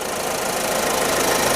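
A Ford EcoSport diesel engine idles with a steady, gravelly clatter, a dense rapid knocking rhythm heard up close and evenly loud throughout.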